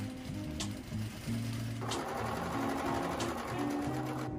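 A domestic sewing machine running a long basting stitch at its longest stitch length, sewing a jacket: a steady, close mechanical whir with rapid rhythmic needle ticking that goes on without a break and has no talking.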